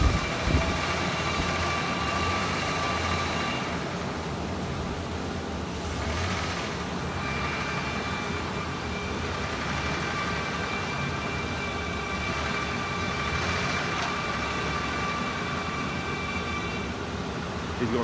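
A 1987 Ford Ranger engine idles just after a repair of TFI no-spark trouble and swapped fuel pump wiring, a steady, even running drone that holds for the whole stretch without talking.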